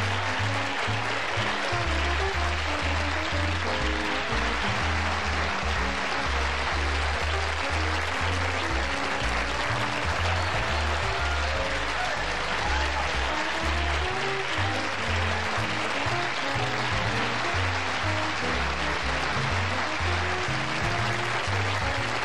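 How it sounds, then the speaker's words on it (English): Studio audience applause on a late-night talk show, a long sustained wave of clapping with steady loud intensity and no speech over it. "I'm humbled by that applause."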